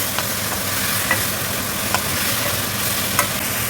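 Kaldereta ingredients stirred in a pan, a broad frying hiss filling the background with a few faint utensil scrapes and taps, steady and close.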